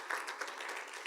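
A short burst of applause from a church congregation, many hands clapping together steadily at moderate volume.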